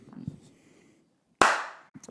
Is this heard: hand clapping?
yes